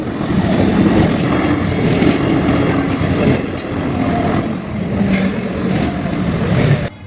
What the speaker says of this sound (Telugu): ట్రైన్ వస్తుందని రైలు గేట్ వేయటంతో